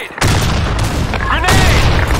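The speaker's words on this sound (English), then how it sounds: "Fire in the hole! Grenade!" A grenade blast in an online shooter game, a sudden loud boom that hits hard and rolls on with dense rumbling and crackle; radio-style voice callouts sound over it.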